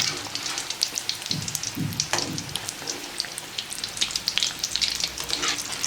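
Food sizzles and spatters in hot oil in a pan, a steady crackling fry with irregular pops, close and moderately loud, with no one talking.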